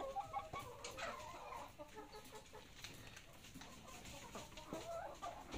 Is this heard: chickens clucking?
yes